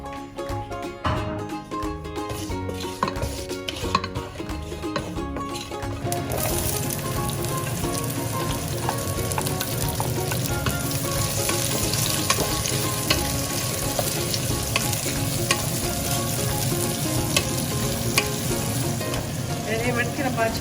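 Bay leaf, curry leaves, three cloves, two cardamom pods, mustard seeds and cumin fry in hot oil for a Jaffna-style deer curry. A loud, dense, continuous sizzle holds close throughout, with some stirring and clatter at the start.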